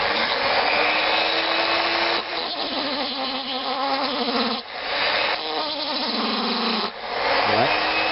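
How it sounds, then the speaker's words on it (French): A power tool grinds away at spot welds on a metal part during a restoration, a loud, steady whine that dips and surges between passes as the disc bites into the metal, with no talking. "je vais tâcher de découper les points de soudure qui se trouvent sur le haut"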